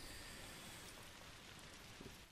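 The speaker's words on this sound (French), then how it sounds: "on s'arrête sur la pluie." Steady rain pours in the video game A Plague Tale: Requiem, a dense, even hiss of drops on surfaces with no voices over it.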